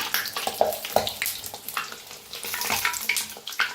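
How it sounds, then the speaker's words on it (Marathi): Puris made with banana and jaggery fry in hot oil, giving a steady close sizzle with crackling pops and bubbling bursts throughout. "तळून दाखवते. तर कसं मस्त फुगायला लागलेत बघा."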